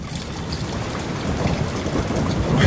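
Heavy Texas rain pours down in a dense, continuous hiss that grows slightly louder, with scattered drops striking nearby surfaces.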